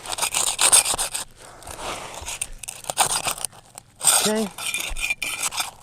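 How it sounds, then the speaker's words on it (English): Trowel scraping back and forth under a damaged roof shingle, harsh gritty rasps in bursts of about a second, close and fairly loud, with short pauses between strokes. "you want to take the trowel in and go left and right, left and right"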